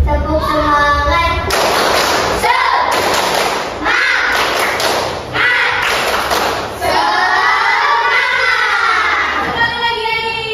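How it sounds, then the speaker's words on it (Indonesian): A class of Indonesian children performs a rhythmic 'tepuk semangat' spirit clap, with bursts of quick claps and thumps coming in repeated patterns. Lively voices shout and chant along in a busy, echoing classroom. "Tepuk semangat."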